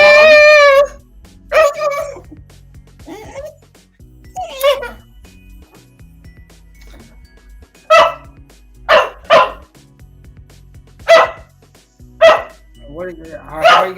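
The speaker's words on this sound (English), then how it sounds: "You want to meet the stray dog?" A stray dog barks in a series of sharp, close barks, a few early and a rapid cluster later, with people talking between and around them.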